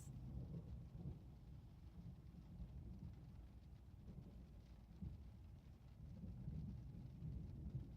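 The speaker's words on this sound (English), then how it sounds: "but that was thunder as well." Thunder rolls low and distant through a heavy rainstorm, the deep rumble swelling and fading over a steady bed of falling rain, with no voices.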